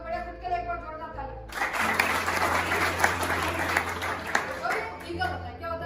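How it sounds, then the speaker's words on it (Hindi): An audience bursting into strong applause after a pause, dense steady clapping for a few seconds, with a voice briefly heard before it starts. "खुद के लिए एक बार जोरदार ताली।"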